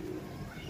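A racing pigeon just back home after a training flight gives a brief, low, muffled coo, close by and over noisy outdoor background.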